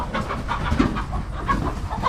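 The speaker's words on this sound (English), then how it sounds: "Sorry, Tucker was chasing chickens again" Chickens cluck softly in short, irregular bursts against a low, muffled background rumble.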